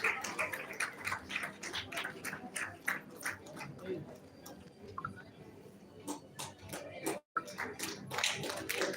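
An audience claps unevenly at a Chetan Business School graduation in Hubli while names are read, with sharp scattered hand claps over a steady murmur of voices and a brief hush near the end.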